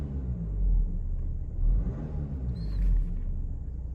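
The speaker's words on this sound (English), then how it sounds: "we'll just give it a few little blips on the throttle" An Audi A6 TDI diesel in limp mode with a boost sensor fault, idling low and rumbling, with three slow throttle blips swelling and falling in a steady rhythm, close and alone.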